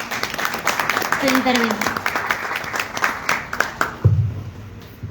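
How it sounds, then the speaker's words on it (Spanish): Audience applause for a speaker at a literary talk on intertextuality in Colchado's work, a steady patter of clapping that fades out, with a voice speaking briefly over it near the end. "Aplausos y escuchamos"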